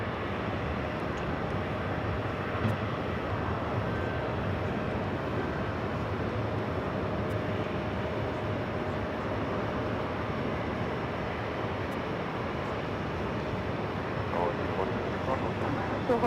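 Airliner on approach or taxiing at JFK Airport, New York, a flight in from Frankfurt, heard as a steady, broad jet roar that holds for the whole stretch, distant and even, with no clear peaks.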